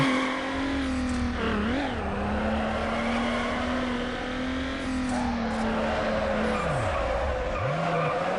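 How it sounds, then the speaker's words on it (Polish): Tyres on a Subaru skid and squeal continuously through a long drift during a drift tournament in Need for Speed Underground, loud and steady throughout over a droning engine, with the pitch dipping briefly near the end. "Kolejne poślizgi."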